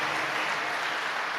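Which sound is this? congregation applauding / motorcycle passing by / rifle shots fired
congregation applauding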